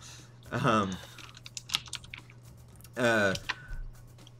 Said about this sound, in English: Oscar's throwing me off because he's typing something